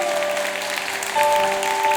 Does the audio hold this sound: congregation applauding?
yes